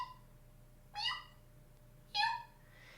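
A human voice imitating a cat's meow, two drawn-out mews about a second apart, close and clear in a quiet room.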